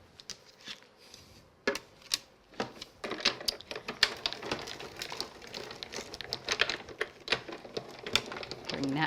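A die-cutting machine runs card and metal dies through on a cutting plate, producing a busy run of close, small clicks and rattling ticks that grows denser and louder, with no talk.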